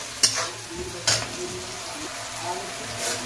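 Salted onions frying in a pan until reddish, a steady close sizzle with two sharp stirring scrapes and a softer one later.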